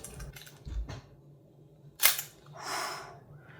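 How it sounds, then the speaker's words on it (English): A camera shutter fires close by with a crisp mechanical snap and a softer follow-through, after a few faint handling clicks. "it even has the best shutter I've ever heard"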